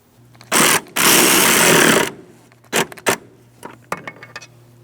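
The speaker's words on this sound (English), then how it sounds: "I'm going to tighten this bolt first" A power tool tightens a mounting bolt on a 2003-2007 Cadillac CTS 3.6L V6: a short whir, then a longer sustained buzzing run, followed by brief bursts and clicks, close and loud.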